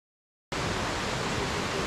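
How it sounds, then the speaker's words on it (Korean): A roaring waterfall with heavy flow, Cheonnadeuli Falls in the Hansin Valley of Jirisan, bursts in after a brief silence as a loud, steady, broadband rush of water. "여기가 출발한 지 1시간여 만에 도착한 천나들이 폭포이다. 수량이 많아서 물소리가 우렁차다."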